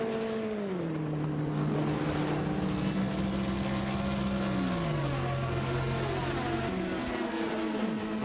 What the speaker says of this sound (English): Our LMP2 field whistling through past our GTE cars.